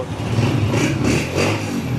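A used 2024 Honda 125 motorcycle engine runs steadily nearby, a low rumbling idle with slight swells in revs and no voices.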